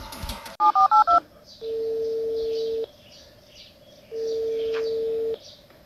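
Four quick touch-tone beeps dial out, then a steady ringback tone sounds twice with a pause between, clear and alone, as a call goes through to the husband in a Toca Boca game.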